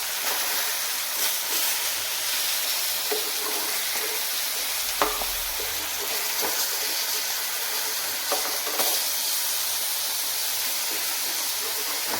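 Vaala (ribbonfish) fish frying in a pan, a continuous close hissing sizzle with scattered small pops and spatters over about twelve seconds, no talking.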